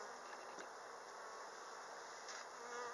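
Honeybees from an opened hive at an apiary hum in a faint, steady swarm buzz with no voices over it.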